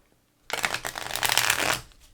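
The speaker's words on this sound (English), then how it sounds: "So I'm going to shuffle" Tarot cards shuffled by hand, a dense, crisp riffling burst lasting about a second and a half after a brief silence, close and clear with no talking.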